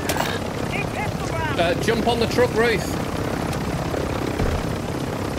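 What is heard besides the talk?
helicopter in a video game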